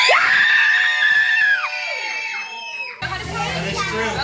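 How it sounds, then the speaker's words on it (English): A crowd of children screams loudly together in a sustained, high-pitched burst that trails off after a second and a half, followed by scattered voices and a noisier room ambience. "I need to hear some super screams up in here"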